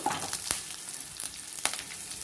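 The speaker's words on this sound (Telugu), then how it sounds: "పచ్చిమిరపకాయలు 1/2 నిమిషంలో మంచిగా వేగిపోతాయి" Green chillies sizzle steadily in a hot pan for a curry leaf and green chilli chutney, with a constant close frying hiss and a few sharp crackles.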